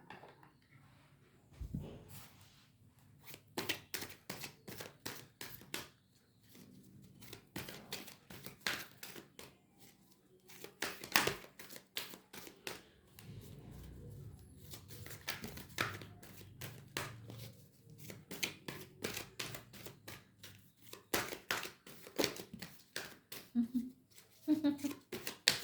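Tarot cards are shuffled and drawn close up, with rapid, crisp bursts of riffling and snapping in irregular runs separated by short pauses.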